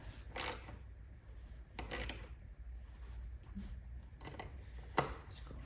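A ratchet tool works on the mirror mount of a BMW R NineT Racer motorcycle, giving a few separate, close, crisp clicking bursts spaced apart against quiet background noise.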